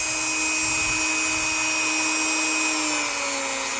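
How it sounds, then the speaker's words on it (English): A Dremel rotary tool whines loudly and steadily at high speed on a small antique pommel, its pitch sagging slightly toward the end. "hold the Dremel"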